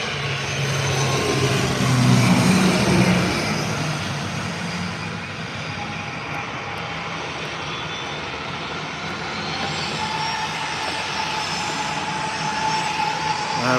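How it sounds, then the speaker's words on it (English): A 10-year-old ATR 72-600 turboprop airliner at Leeds Bradford Airport during a storm, its engines giving a loud, continuous droning roar that swells early and then holds steady, with no voices over it. "ATR 72-600 at a mere 10 years old. I always find these a noisy aircraft."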